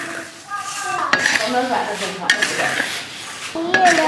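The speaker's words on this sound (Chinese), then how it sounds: "盐炒热，放入香叶、八角、花椒、干辣椒，继续炒香它。" Coarse salt stir-fried in a wok with bay leaves, star anise, Sichuan pepper and dried chilies makes a steady gritty rasping scrape, with sharper metallic clanks of the spatula against the pan at intervals.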